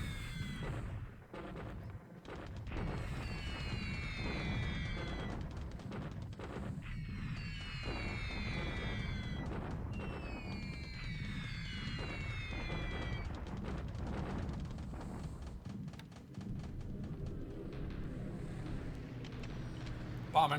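A bombing raid on Clark Field in a World War II Pacific strategy game brings repeated rumbling blasts and rattling booms, mixed with chirping tonal game effects, running continuously.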